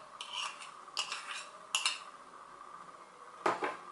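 Several short clinks and scrapes of a spoon against a bowl while stirring cornstarch and salt into putu ayu batter, coming in small bursts with pauses between, close by and fairly quiet.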